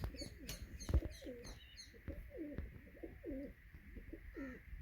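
Pigeons coo repeatedly in soft, throaty rolling calls close by, with a few faint chirps and light thumps in the background.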